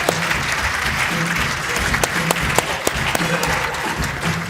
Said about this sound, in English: A warm round of applause to him, please.